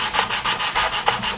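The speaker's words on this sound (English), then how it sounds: "this is 180 grit sandpaper" Sandpaper of 180 grit rubbed back and forth over the seams of a plastic Airfix 1/72 Avro Vulcan model kit part, giving steady rhythmic scratchy strokes, about six in quick succession, close and fairly loud with no talk.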